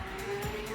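A Ferrari Enzo brakes hard in a racing video game, with tyres squealing and the engine note holding loud and close for a brief moment.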